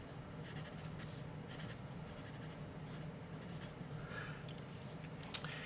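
A General's Test Scoring 580 pencil writes on paper in quick bursts of soft, close scratching strokes with short pauses between them, quiet overall and without talk.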